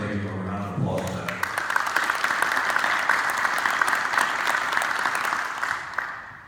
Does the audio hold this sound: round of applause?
yes